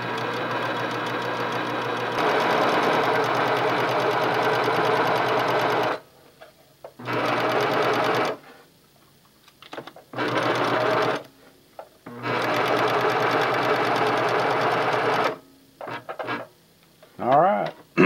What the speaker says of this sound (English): you just sew the entire thing into a tube, just feed it through